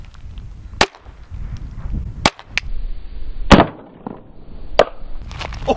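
A .22 Long Rifle round of 40 grains striking a Boeing 737 emergency exit door, several sharp isolated cracks spaced a second or more apart over a low outdoor rumble, loud and close.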